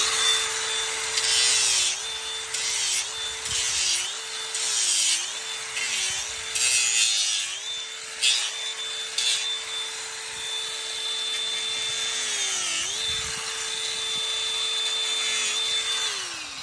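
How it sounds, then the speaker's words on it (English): A DeWalt 20-volt cordless grinder works on a horse's hoof, taking down the heels and trimming the bar, with a steady high motor whine that dips in pitch under load through repeated bursts of rough abrasive grinding, close and loud. "here's my Dewalt 20-volt grinder"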